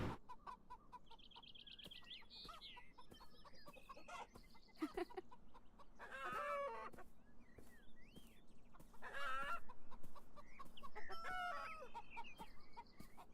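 Chickens cluck and a rooster crows on a farm in the video game Beyond Eyes, scattered clucks and chirps with louder bursts of crowing over a soft, steady background.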